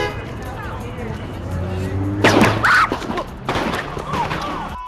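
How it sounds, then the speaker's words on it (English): Gunfire in Ferguson in the early morning, when two police officers were shot: a few sharp, loud bursts break out over background noise and voices, followed by more scattered cracks. "That is the gunfire"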